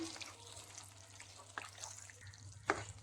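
A spoon scrapes and stirs marunnu chicken in an uncovered pan while it cooks down, over a faint sizzle. The sound is quiet, with a few soft clinks and scrapes.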